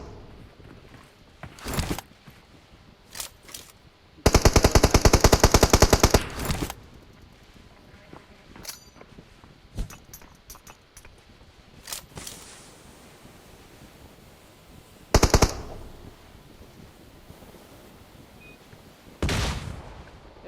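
Gunfire in a video game: a sustained rapid burst of shots, then a few short sharp bursts scattered among quieter rustling and movement.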